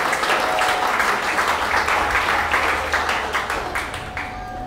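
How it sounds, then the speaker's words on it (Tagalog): Church congregation applauding during a worship service, a dense sustained wash of many hands clapping together that fades slightly toward the end, with no talk over it. "Palakpakan po natin si Jesus."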